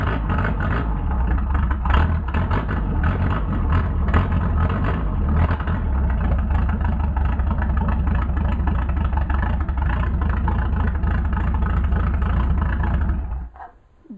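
A Mercedes 190SL engine running on Solex carburetors with no exhaust fitted, roaring loud and steady at close range for about thirteen seconds before cutting off abruptly.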